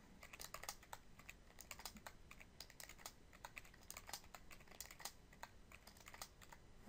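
Steady, fast typing on a computer keyboard with repeated tab key presses while formatting a dissertation table of contents, crisp close clicks running continuously with no talk.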